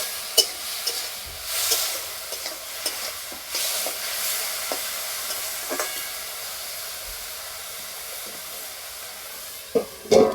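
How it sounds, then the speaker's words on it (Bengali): Cauliflower for paratha filling fries in a pan with a steady, close hiss of sizzling oil, punctuated by light stirring scrapes and a couple of louder clatters at the end, with no voices. "কফি গায়ে যতক্ষণ আঁচ না লাগবে ততক্ষণ এভাবে ভাজতে থাকবো।"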